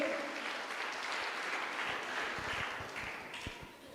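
A church congregation applauds after a healing testimony, a dense steady wash of many hands clapping at moderate distance, fading slightly toward the end.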